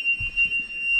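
A steady high-pitched electronic alarm beeps from a boat with a 454 big block engine, a continuous tone heard close with faint low rumbling beneath.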